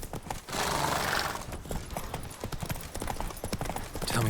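Roach the horse trots in The Witcher game, a steady, fast clip-clop of hooves close by that carries on throughout under a layer of ambient game sound.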